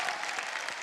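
Loud, dense applause from a television singing-competition studio audience, an unbroken wash of many hands clapping for the whole moment with no voices on top.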